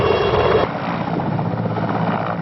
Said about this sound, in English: the ubiquitous Mi-8 and the Mi-17 medium helicopters